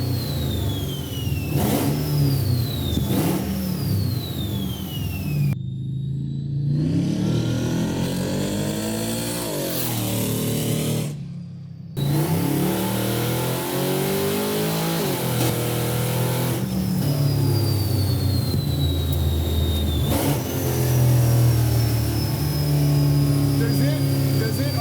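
Supercharged 900 hp six-wheel Chevy C10 engine revving hard with blips for rev matching on downshifts, loud repeated rising and falling engine pitch sweeps and brief cut-offs, with people talking inside the truck.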